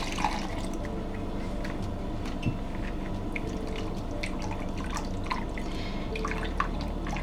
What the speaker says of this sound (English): So I'm just gonna pour my water into my pot.